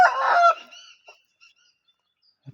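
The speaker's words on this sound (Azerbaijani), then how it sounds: "Hətta banladı da bu da" A young rooster newly started crowing gives one short, strained crow up close, then the yard goes nearly quiet apart from a couple of soft clucks.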